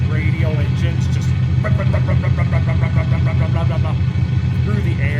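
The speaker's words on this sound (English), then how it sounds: "Though the sound that this plane makes is... Oh, listen to that noise." A vintage plane with two giant radial engines in a flight simulator game produces a loud, steady, throbbing drone with a rough low rumble, while someone talks over it.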